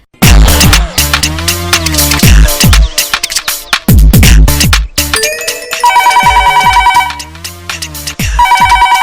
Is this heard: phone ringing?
yes